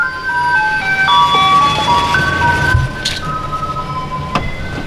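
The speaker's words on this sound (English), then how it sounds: "As long as we got the ice cream truck in the shot, that's all that matters to me." Ice cream truck chimes play a bright, looping electronic melody close by and loud, with a couple of sharp clicks and knocks near the end; no one speaks.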